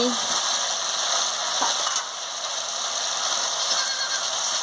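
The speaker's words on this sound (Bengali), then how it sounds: "আমি এবারে আলু আর বেগুনটা দিয়ে দিচ্ছি" Potato and eggplant added to spices frying in oil, a continuous loud sizzle close by with a few faint stirring scrapes.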